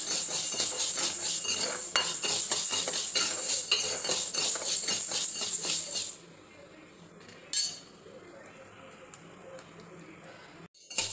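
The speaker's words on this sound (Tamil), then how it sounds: "இப்போ கொள்ளு வறுத்துக்கலாம்" Horse gram dry-roasts in a kadai, stirred with repeated metal scraping and clinking and a soft rattle of seeds for several seconds, close up, then near quiet with one brief knock.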